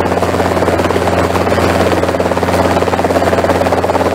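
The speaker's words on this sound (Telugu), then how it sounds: "ఈటికెళ్ళి హెలికాప్టర్లో వరంగల్ పోయిండు" A helicopter, the kind flown to a Warangal political rally ground, drones steadily and loudly throughout with a constant rotor and engine hum, heard alone without talk.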